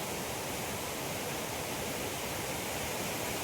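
Water flowing in a stream near a small bridge in a village market area, a steady, even rushing wash with no break and no voices.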